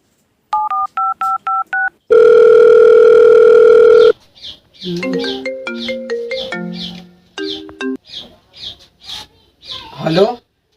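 Quick dialing beeps give way to a long steady ringing tone, then a burst of chirpy, melodic ringtone notes that end in a voice.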